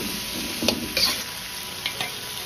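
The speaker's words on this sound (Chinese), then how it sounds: "炒至冬瓜稍微收缩，表面有点焦黄" Winter melon stir-fried in a wok over medium-low heat, giving a steady low sizzle with a few light scraping stirs and clinks of the spatula against the pan.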